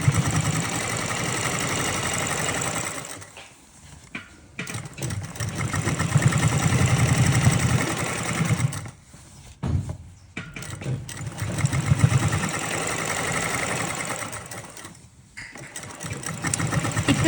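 A foot-pedal umbrella sewing machine stitches a seam in palazzo pants, running in long steady whirring bursts broken by short pauses, close and loud with no talk over it.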